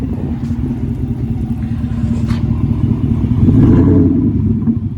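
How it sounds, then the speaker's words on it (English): A pickup truck, a 2020 Ford F-150 fitted with a side exhaust, idles with a loud, steady rumble close by, then swells into a throaty rev near the end. "My boy recently got his side exhaust done on his truck. Let me show y'all that right now."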